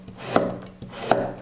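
A knife slices half a carrot on a cutting board, two crisp chops about three-quarters of a second apart, each a sharp knock on the wood, close and clear, with no voices.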